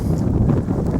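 Wind blowing across a lake shore, with a boat nearby and a southeasterly wind: a steady low buffeting rumble against the microphone, close and continuous, with no voices.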